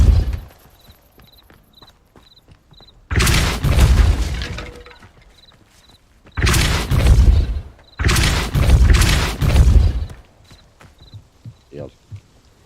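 Three heavy blasts from the Depulso spell in Hogwarts Legacy, each a loud booming burst with a crashing, shattering tail lasting a second or two. A faint, regular beeping runs through the quieter gaps.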